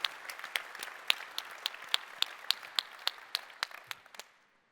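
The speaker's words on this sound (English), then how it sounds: "That deserves a round of applause," Conference audience applauding at a keynote event, a fairly quiet round of clapping with a few sharp individual claps standing out, tapering off and fading to silence near the end.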